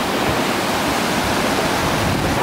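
Waterfall near Sonogno, Switzerland, a loud continuous broadband roar of rushing water, steady throughout with no voices.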